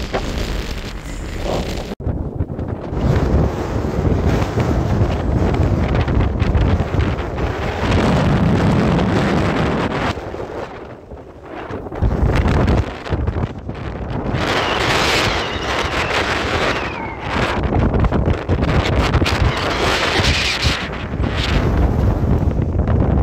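Strong wind buffeting the microphone outdoors, a loud roaring rumble that surges and drops in gusts, nearly cutting out briefly mid-way before roaring back just as hard.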